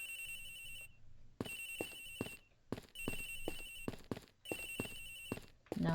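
Cell phone ringtone in the Ace Attorney Investigations video game, a repeating electronic ring in regular bursts with short gaps, clear and alone.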